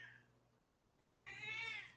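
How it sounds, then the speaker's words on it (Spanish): A cat lets out a short, fairly close meow that opens with a faint cry and swells into a louder, drawn-out wail against quiet room noise. "mi gato se puso a llorar"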